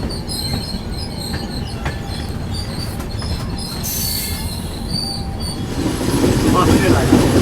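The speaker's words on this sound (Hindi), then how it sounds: "चलिए 2 मिनट होल्ड के बाद डिपार्चर हो चुका भैरवगंज रेलवे स्टेशन" A passenger train pulls out of Bhairavganj railway station, its wheels squealing with high metallic screeches over a loud, steady rumble of rolling carriages that builds toward the end.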